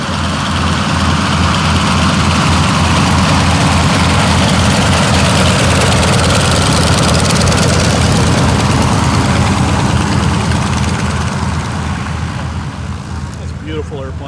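A Beech 18 twin-engine aircraft, a C-45H Expeditor at an air show, rumbles loudly and continuously with a deep, steady engine drone that eases off slightly toward the end.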